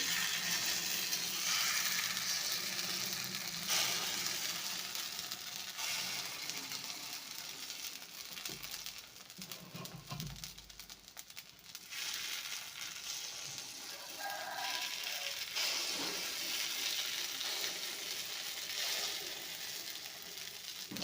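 Paddu batter sizzles steadily in an oiled paddu pan while a soft breakfast is cooked, a continuous hiss with small crackles and a brief stir or scrape near the middle, close and without talk.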